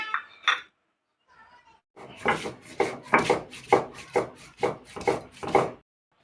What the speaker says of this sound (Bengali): আমি এখন শিলপাটায় বেটে নেব পোস্তদানা আর এই লঙ্কাগুলো।